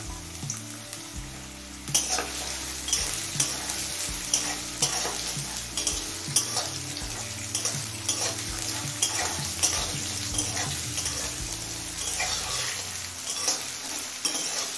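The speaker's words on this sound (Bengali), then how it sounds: "এবার আলু গাজরটা কিছুক্ষণ ভেজে নেব।" Diced potato and carrot frying in a pan for a mulo shak (radish greens) dish, with steady close sizzling and repeated stirring scrapes throughout, no talk.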